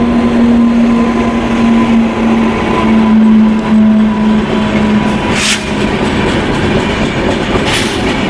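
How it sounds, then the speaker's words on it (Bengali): The New Delhi–Howrah Duronto Express runs past at a station, a loud close rumble with a sustained horn-like tone early on and rattling wagons that keep clattering to the end. "এখান থেকে আর একটা ট্রেন ঢুকছে, এটা হচ্ছে নিউ দিল্লি থেকে হাওড়া দুরন্ত এক্সপ্রেস"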